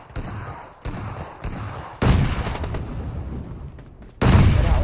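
Bursts of automatic gunfire from a Free Fire mobile battle game, coming in short loud volleys with brief pauses, then a sustained heavy stretch of shooting and a final loud burst.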